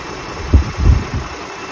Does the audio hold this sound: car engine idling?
yes